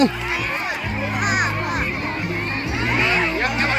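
A village football match crowd in rural Thailand, with many voices, including children, shouting and cheering together in a steady, noisy wash that swells and dips, outdoors and close by.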